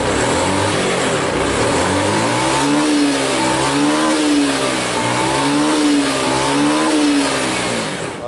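A Honda Beat fuel-injected scooter engine revs up and down repeatedly, its pitch rising and falling in smooth waves, loud and close with steady idle underneath.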